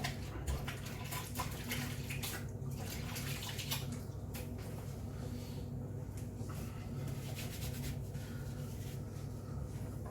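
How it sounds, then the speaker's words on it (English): Running tap water while hands are washed at a kitchen sink during scone baking, a steady broadband rush of flowing water lasting throughout, moderately close, with light splashes and no talk. "so just give my hands a quick wash"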